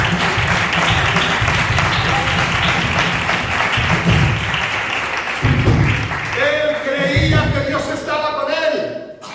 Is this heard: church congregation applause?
yes